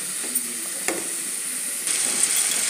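Finely chopped ponnaganti greens frying in oil, a steady close hiss and sizzle with a few light stirring taps, getting slightly louder near the end.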